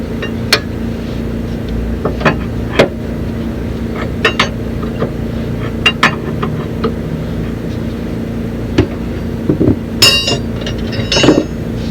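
Hammer blows on a worn, loose Panhard bar being driven out of a 1984 Wanderlodge PT bus: sharp, irregular metallic strikes and clinks at close range over a steady low workshop hum.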